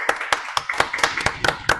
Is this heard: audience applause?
yes